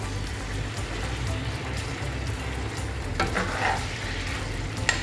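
Chicken liver stew with sweet potato being stirred in a pan, a dense continuous sizzle with a low bubbling rumble and a few brief scraping clatters of the spoon.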